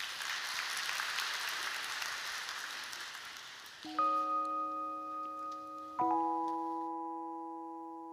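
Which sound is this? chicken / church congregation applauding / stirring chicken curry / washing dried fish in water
church congregation applauding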